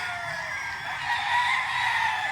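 Chickens on a farm give a sustained, nasal crowing and clucking chorus, steady and fairly close, with no talk over it.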